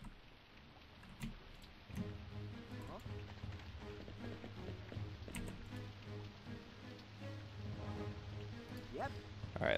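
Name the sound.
rain in the video game Commandos 2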